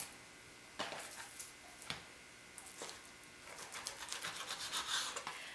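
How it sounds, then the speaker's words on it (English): Knife trimming fat from the edges of a bone-in pork chop, soft rubbing and scraping strokes in short bursts on a board, close and fairly quiet. "Just trim a little bit of the fat on the edges."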